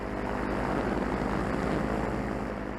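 A small propeller airplane flies low over a pasture on landing approach, its engine giving a steady, close drone with a loud, even hum that continues for the whole stretch with no talk over it.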